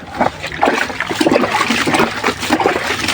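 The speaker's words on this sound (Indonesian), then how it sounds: "kita tambahkan airnya sampai lembab ya, teman-teman" Water poured onto a compost heap of dry leaves, a continuous close splashing and trickling with uneven spatters as the leaves are dampened.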